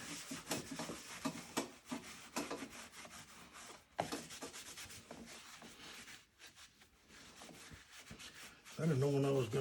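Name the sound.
rubbing conditioner into leather saddle with cloth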